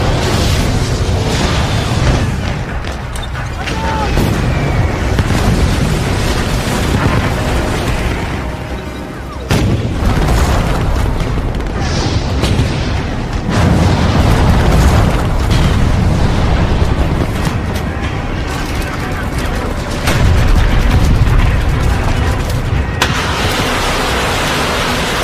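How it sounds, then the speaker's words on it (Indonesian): Soviet Katyusha rocket artillery barrage during the assault on Berlin in World War II, a dense continuous roar of booming explosions and rumbling blasts with no pauses. "Setelah serangan Katyusha dan artileri"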